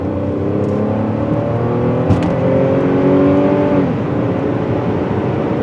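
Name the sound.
Buick Lucerne 3.9 engine accelerating at full throttle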